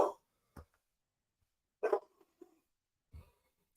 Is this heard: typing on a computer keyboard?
no